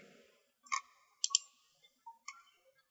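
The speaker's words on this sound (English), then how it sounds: "Drag the mouse and click again, finish the first line." A computer mouse clicks in a quiet room, a few sparse, crisp clicks spaced irregularly, close and clear.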